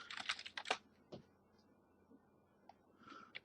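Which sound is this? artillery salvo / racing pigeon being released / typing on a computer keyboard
typing on a computer keyboard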